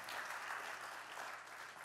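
An audience in a church breaks into sustained applause, a dense, even wash of clapping with a little cheering, heard from a distance and fairly faint.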